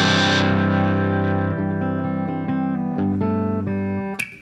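Overdriven electric guitar on the bridge pickup through a Silktone KT66 amp: a loud opening chord rings out, followed by a run of distinct picked notes, with a sharp pick attack just before the end.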